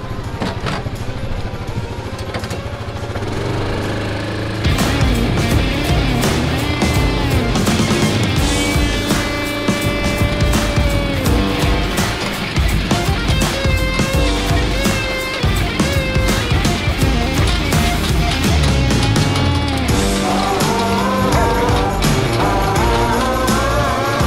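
A tractor engine labours at high revs while pulling a tire strapped on for extra weight on a food plot, loud and close with shifting throttle and gear whine throughout.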